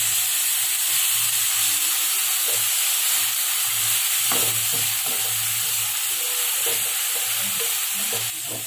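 Ground masala paste is stirred into fried onions for an Andhra-style mutton curry, a loud steady sizzle and hiss with irregular scraping and clinking of the spoon against the pan and no voice.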